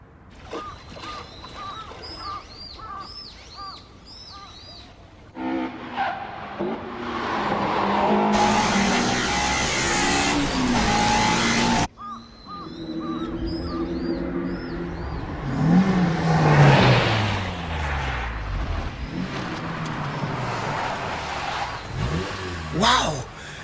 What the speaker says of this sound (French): Le moteur de ma 86 ne tourne pas très bien.